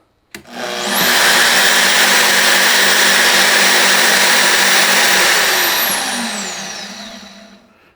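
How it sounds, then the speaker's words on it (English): A Portaband portable bandsaw, mounted on a table and switched on at its new switch, starts with a click and runs with a loud, steady motor whir and blade hum, then spins down gradually. "this should function like a normal bandsaw."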